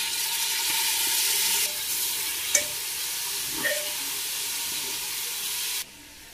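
Tomatoes going into sizzling ginger-garlic paste in a pan for Ambur biryani, a close steady frying hiss with a couple of sharp stirring knocks, then the sizzle drops away near the end.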